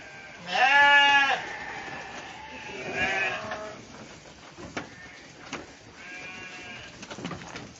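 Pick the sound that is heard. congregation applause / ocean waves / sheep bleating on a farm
sheep bleating on a farm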